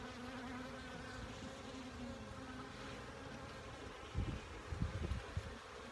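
Honey bees buzz at an opened beehive during a hive check on an overcast day, a steady, faint swarm hum that carries on throughout, with a few soft thumps near the end.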